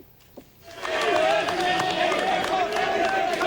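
Stadium crowd in Tampa Bay roars and cheers as a returning football coach walks onto the field before a game, a sudden swell into sustained loud cheering.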